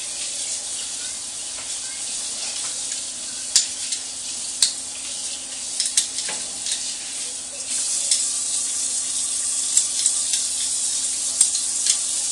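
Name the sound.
garlic sizzling as it is added to the hot pan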